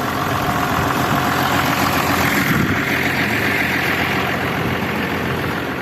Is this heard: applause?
no